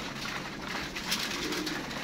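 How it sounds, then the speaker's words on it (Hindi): Pigeons coo steadily from a loft of freshly caught, healthy birds, the soft calls blending into a continuous close-up murmur over a constant background hiss. "बाकी आपके सामने ही है कबूतर सारे फिट फाट"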